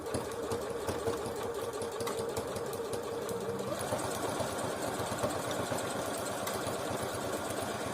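A Bernette B38 sewing machine stitches at a steady pace, its motor hum and rapid needle clatter running continuously and close, with no voices.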